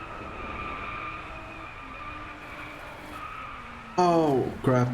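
Car drifting with tires skidding in the Driveclub racing game: a steady engine drone runs throughout, then loud squealing tire skids burst in near the end, with a brief pause before a second squeal.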